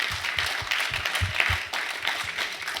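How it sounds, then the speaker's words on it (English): An audience at an SB2 Rumble community event in Sarasota gives a trophy-winning team a warm round of applause, with dense, steady clapping close by throughout. "A huge round of applause for our"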